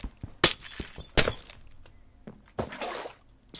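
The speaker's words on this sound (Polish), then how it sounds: "Wolę szkło zniszczyć." Glass blocks shatter in Minecraft, two sharp crashing breaks in quick succession followed by a softer crumbling burst, with small thuds between them and no talk.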